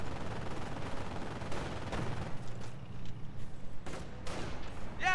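Heavy battlefield gunfire pounds a manor in the Company of Heroes strategy game, with dense overlapping rifle and machine-gun bursts, booming impacts, and a brief radio voice at the end.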